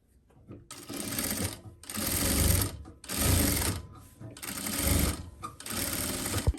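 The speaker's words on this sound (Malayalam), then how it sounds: "അത് തയ്ക്കുമ്പോ ഇതിന്റെ മീതെ കൂടെ 1/4 ഇഞ്ച് വെച്ചിട്ട് അങ്ങോട്ട് തയ്ച്ച് എടുക്കുക" Sewing machine stitching a garment neckline a quarter inch from the edge, running in five steady bursts of rapid mechanical whirring with brief pauses between, close and moderately loud.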